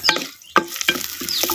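Crushed garlic, ten cloves ground on a stone, drops into onions frying in a pan for Chettinad therakkal, giving a few short, close sizzling scrapes and stirring bursts separated by brief quiet gaps.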